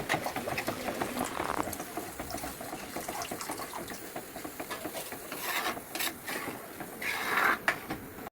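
A pot of thick Kerala-style fish curry bubbles and boils steadily, with soft popping and gurgling throughout, close by and fairly quiet.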